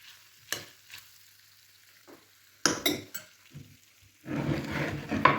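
Chopped onion tipped into melted butter in a frying pan, cooked with chicken gizzards, sets off a sudden loud, steady sizzle near the end, after a quiet stretch of scattered clinks and stirring scrapes.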